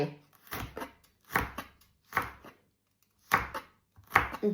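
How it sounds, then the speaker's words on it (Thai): A knife chops fresh chili peppers on a cutting board in short bursts of quick, close taps separated by brief pauses. "แล้วก็หั่นพริกสดใส่"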